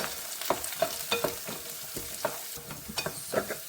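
Green peas fry in a pan for a South Indian upma while a utensil stirs them, giving soft scraping strokes in an uneven rhythm over a faint sizzle, close and quiet.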